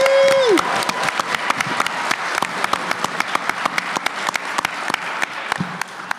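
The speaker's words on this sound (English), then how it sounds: "One more round of applause for David, everybody." An audience at a voice actor guest panel at a convention gives a burst of applause, many hands clapping together briskly and evenly, with a brief tone at the start.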